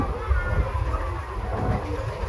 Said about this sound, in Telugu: మన ట్రైన్ అయితే వెళ్తూ ఉంటుంది